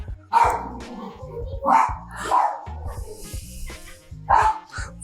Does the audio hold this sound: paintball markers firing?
no